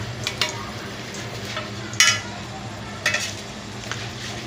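Garlic and ginger frying in oil for a tadka for Multani-style rawaan ki daal, with a steady low sizzle and several short clinks of a spoon stirring against the pan.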